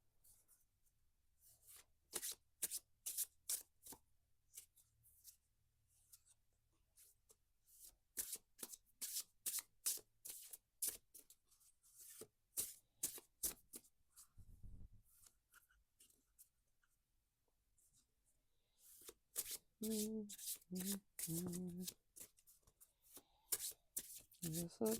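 Inner Child Oracle cards being shuffled by hand, close and crisp, in repeated bursts of rapid riffling flicks separated by short quiet pauses.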